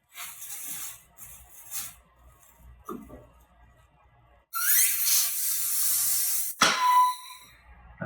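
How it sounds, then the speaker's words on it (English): Compressed air at about 60 PSI pushing a piston out of a Mazda Miata brake caliper, short hissing blasts that start and stop, then a long strong hiss ending in a sharp pop and clatter. "if you only have hand tools and you don't have compressed air, ain't no way that you're going to get the piston out"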